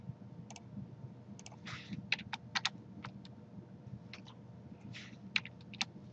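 Irregular clicks of keys being typed on a computer keyboard during CAD drawing, sharp close taps in short bursts with pauses, over a low steady room hum.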